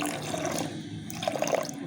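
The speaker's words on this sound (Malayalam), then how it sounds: "നമുക്കിതിനകത്ത് ആവശ്യത്തിന് വെള്ളം ഒഴിക്കാം" Water poured into a cooking pot while making boli, a brief splashing gush that is fairly faint and close.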